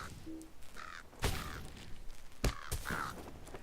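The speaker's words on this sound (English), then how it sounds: "I'm just trying to clear out as many of these birds as possible." Birds cawing in an online role-playing game set in Trestlebridge, two harsh caws each answered by a sharp thud of combat, heard with no talking.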